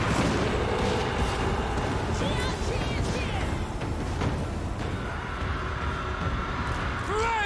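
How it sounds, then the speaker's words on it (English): Cathayan cannons firing in Total War: Warhammer 3 during a siege battle with weapon teams on the walls, a steady barrage of booms and gunfire rumbling continuously throughout, loud and dense, with faint speech mixed in. "those Cathayan cannons are so good, though. They just pummel."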